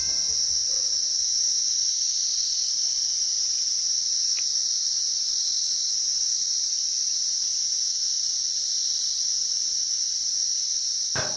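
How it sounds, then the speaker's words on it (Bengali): Crickets chirp in a patch of forest along a hill road near Lepchajagat and Mirik, a steady high shrill drone that never lets up, with no talk and only a faint click or two. "মাঝখানে একটু জঙ্গল আছে যেখানে ঝিঝি পোকার ডাক মানে দারুণ শোনা যায়।"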